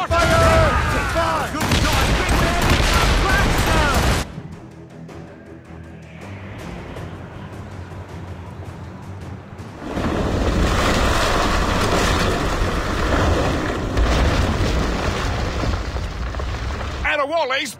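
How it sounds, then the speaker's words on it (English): Mortar and cannon fire booms in a naval battle in the video game Assassin's Creed Rogue, with heavy blasts over wind and surging waves, and voices shouting throughout. "They're firing mortars!"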